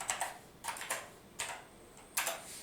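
Typing on a computer keyboard while entering Python print statements: several short bursts of crisp key clicks in small clusters, fairly quiet and close, with no talking.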